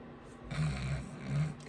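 A person snoring in bed, two slow rumbling breaths with a soft pause between them, close and fairly quiet.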